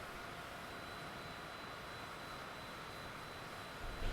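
A steady, broadband airplane engine drone from Microsoft Flight Simulator 2020 fills the cabin continuously at moderate level, with a slight swell near the end and no talking.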